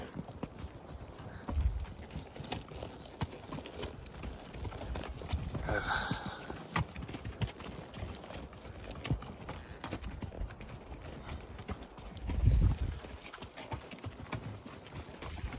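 Steady clip-clop of a pack-train horse's hooves walking on a wilderness trail, an even plodding rhythm with a few louder thuds, under light wind noise outdoors.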